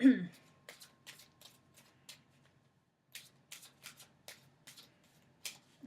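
Oracle cards being shuffled, a quick run of soft riffling bursts, a short pause, then another run of shuffles, close and quiet with a voice briefly at the start.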